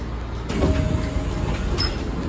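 Electric commuter train standing at the Futsukaichi terminus in Fukuoka, a steady low rumble and hiss of the idling carriage with faint mechanical tones, no talk.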